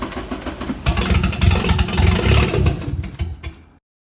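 A Porsche engine fitted with a carburetor conversion cranks and catches, rising into a rough, loud, close running rumble that stumbles unevenly for a few seconds before cutting off abruptly.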